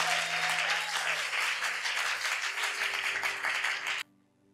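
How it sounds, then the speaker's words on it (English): A church congregation claps together in a brisk, dense burst for about four seconds, then stops abruptly, leaving a faint sustained tone. "If you're learning something, clap your hands for Jesus."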